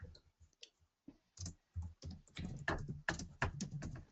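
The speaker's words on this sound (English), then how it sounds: "Can you not type? Whoever's typing." Computer keyboard typing during an online meeting, bursts of quick key clicks at close range, irregular and uneven with short pauses, growing denser toward the end with no talk over it.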